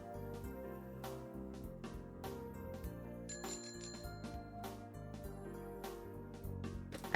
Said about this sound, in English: I heard a bicycle bell that I've heard before.